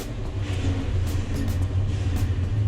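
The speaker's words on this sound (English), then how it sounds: "I love watching these four motors fire up" Four boat motors run together on a fishing boat, a loud, steady, close low rumble with a faint higher whine and no pauses.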